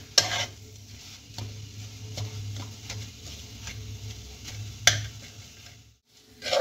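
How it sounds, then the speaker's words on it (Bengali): A gokul pitha filling mixture stirred in a pan, heard as soft, intermittent spatula scrapes and taps over a faint low sizzle, with a sharper clack near the end and no voices. "এটা ততক্ষণ নাড়তে থাকবো যতক্ষণ না একটা পাক আসে।"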